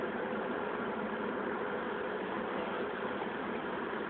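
A 1963 Buick Riviera on the move with the windows down, its engine and exhaust a steady low, muffled drone blended with wind rush, even and unbroken throughout.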